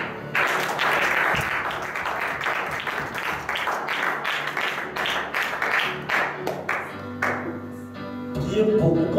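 A church congregation breaks into loud, sustained applause, many hands clapping in a dense uneven patter that swells and then thins out near the end.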